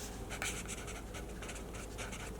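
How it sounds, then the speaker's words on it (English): A pen scratches across paper, close and quiet, in short repeated strokes at an uneven pace with no talking. "So let me write this down."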